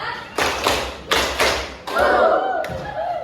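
A classroom of students claps in response to a teacher's cue, giving two sharp bursts of claps followed by a group of voices chanting together, loud and close.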